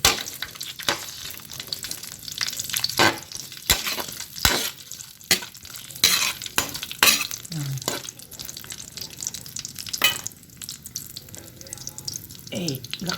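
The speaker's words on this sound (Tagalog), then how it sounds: "Piprito nyo yung Chinese sausage" Chinese sausage sizzles and crackles as it fries in a pan, with scraping and stirring clatter throughout and a brief splash of running water.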